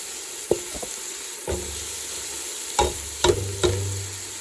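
Shrimp jambalaya is stirred after black pepper and garlic powder go into the pot. Four or five distinct spoon knocks against the pot ring out over a steady low sizzle and hiss, close by and unaccompanied by voices.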